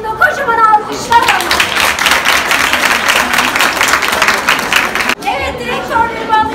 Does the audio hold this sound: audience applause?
yes